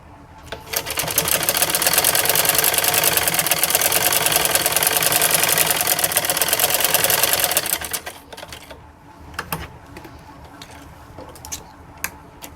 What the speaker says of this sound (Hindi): इस तरह से हम इसको फोल्ड करेंगे और ये सिलाई लगाएंगे